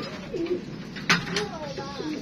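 Pigeons cooing close by at a coop, soft throaty coos rising and falling over faint ambient noise, with a brief sharp flutter or knock in the middle.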